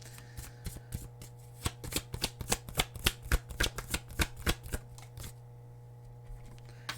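Tarot cards riffled and shuffled in a quick, crisp run of flicking snaps, close and fairly loud, over a steady low hum before settling quiet.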